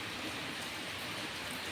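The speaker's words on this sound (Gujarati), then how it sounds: "વરસાદ જો ચાલુ થઈ ગયો છે." Steady rain falls throughout, a dense continuous hiss with no talk in the short stretch.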